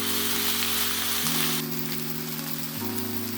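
Sliced round onion frying in a pan for yakisoba makes a loud, steady close sizzle, with low tonal hums shifting underneath and no talking.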